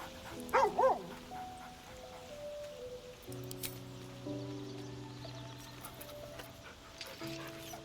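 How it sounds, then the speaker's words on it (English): A dog at the player's camp in the video game Baldur's Gate 3 gives a couple of quick, close barks near the start, then the game's soft music carries on alone. "Ooh, the dog showed up at camp."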